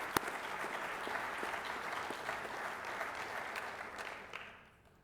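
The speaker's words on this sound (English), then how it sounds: "a big round of applause for these fine individuals who believed in us" Audience applause at an awards show, a broad, fairly distant roar of many hands clapping that continues evenly and then tapers off at the close.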